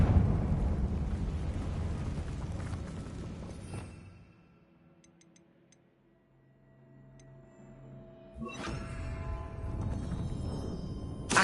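A fiery Confringo spell blast in the video game Hogwarts Legacy, a loud roaring burst that fades into near silence with faint ticking, then a second heavy whoosh of flame swells back in.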